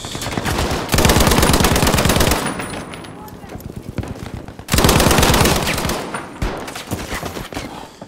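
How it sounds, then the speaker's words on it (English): Two long, loud machine-gun bursts rattle up close in a Battlefield 5 multiplayer Breakthrough match. Each rapid volley lasts over a second and is followed by a quieter stretch of scattered shots and background battle noise. "Oh my god, I'm already getting shot at."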